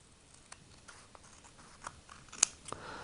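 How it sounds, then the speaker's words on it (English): Scissors snip across the rubber GloveTacts tips for motorcycle gloves, a few faint, quiet clicks and crunches scattered over three seconds of near silence, close up. "So I've drawn a line across, and I'm going to just cut it across now."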